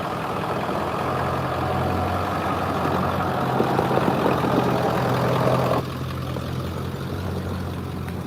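A 7.3-liter diesel truck engine runs at a steady low idle, a continuous rough rumble with a slight drop in level toward the end.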